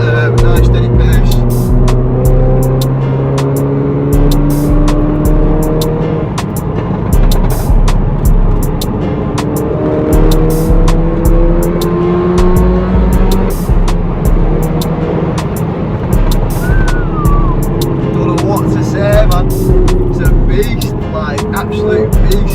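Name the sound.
Audi S1 Quattro car driving in fifth gear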